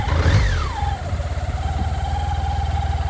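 A 1986 BMW K75c three-cylinder motorcycle starts up cold on choke, the engine catching with a quick rising rev that then drops and settles into a steady, close, even idle.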